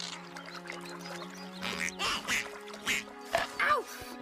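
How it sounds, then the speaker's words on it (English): Turtle duck from the Avatar cartoon quacking in a few short, bright bursts over a steady background hum, with faint voices underneath. "Stupid turtle duck!"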